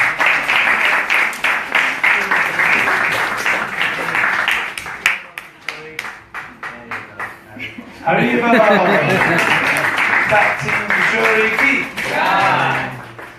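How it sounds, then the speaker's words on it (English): A gathered audience at a Sunday spiritual talk claps for a young girl, bursts of hand clapping that fade and return amid chatter, a speaker's voice and some laughter. "So let's give Kishori a big round of applause as well."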